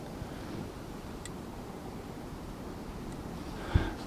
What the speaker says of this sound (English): hopefully you can hear the wind howling through the trees